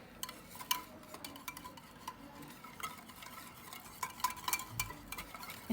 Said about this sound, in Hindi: इसको ना हम अच्छे से बीट करेंगे और सारे मसालों को मिलाएंगे